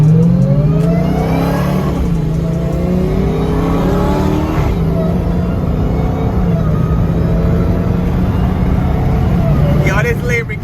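A Lamborghini supercar on a cruise revs hard and accelerates, its engine note climbing in a loud sustained roar, with excited voices talking over it.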